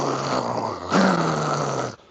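A human voice imitates a little dog's growl: a continuous, rough, throaty rumble lasting about two seconds that briefly gets louder partway through.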